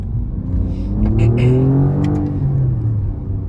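An Alfa Romeo Giulia Quadrifoglio engine with a welded exhaust revs up and down with a raspy, throaty exhaust note, loud and close, rising pitch sweeps over a steady rumble.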